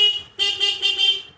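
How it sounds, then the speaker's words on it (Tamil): A Honda Unicorn 160 motorcycle horn during bike electrical work, sounding a short toot followed by a longer buzzy blast with a slight wavering pulse, loud and close with no speech. "ஹார்னு நல்லா அடிக்குது"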